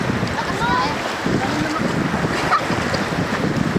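Strong ocean waves slosh and slap against a boat at sea during a family outing, a steady rushing wash with wind buffeting the microphone throughout.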